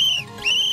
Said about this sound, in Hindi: अरे आप सीटी मत बजाइए